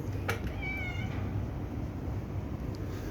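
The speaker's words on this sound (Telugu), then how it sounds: "వచ్చింది నా పిల్లి మియా మియా అంట" A pet cat gives a single faint, drawn-out meow over a steady background hum, heard alone without talk.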